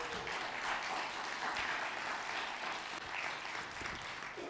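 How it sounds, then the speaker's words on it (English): Audience at a technology summit gives itself a round of applause, a steady, moderately distant wash of clapping from a large room that holds evenly throughout. "can we all give ourselves a round of applause?"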